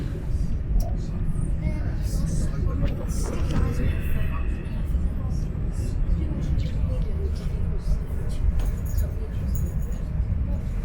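An Avanti West Coast Class 805 train at 100 mph makes a steady low rumble and broadband roar, heard from inside the carriage, with intermittent clicks and rattles and no pauses.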